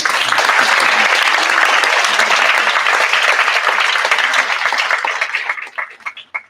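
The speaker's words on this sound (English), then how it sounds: "Round of applause for everybody" A large school symposium audience applauds the participants in a loud, dense burst of clapping that holds steady, then thins out and fades to a few scattered claps at the end.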